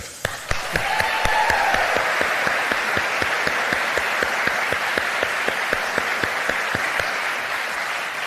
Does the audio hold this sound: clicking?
no